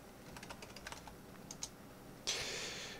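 Rapid keystrokes on a computer keyboard, a burst of light clicks followed by a denser flurry of typing, close and clear with no voices.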